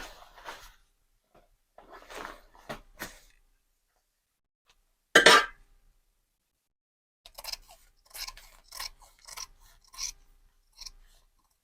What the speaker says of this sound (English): I'm gonna go ahead and trim this extra sleeve allowance